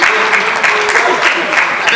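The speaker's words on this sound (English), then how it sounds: "Students, Mom is clapping." An audience claps throughout at a university gathering, a dense, loud patter of many hands heard close up, with a voice speaking over the applause.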